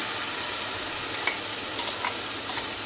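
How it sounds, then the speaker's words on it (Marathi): Green masala paste frying in hot oil for a mint pulao, a steady close sizzle with a few faint clicks of a spoon stirring the pan. "हा सगळा ग्रीन मसाला यामध्ये घालून घेतल्यानंतर तेल सुटेपर्यंत आपण याला परतून घ्यायचं आहे."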